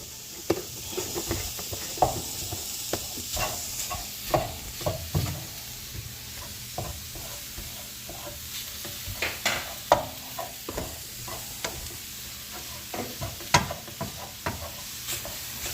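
Ground turkey stirred in a hot pan sizzles steadily while a utensil scrapes and taps the pan in frequent uneven strokes, close and clear, with no speech.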